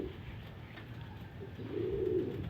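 Soft, low cooing of pigeons near a loft trapdoor, faint and close with a steady background hum, swelling slightly near the end.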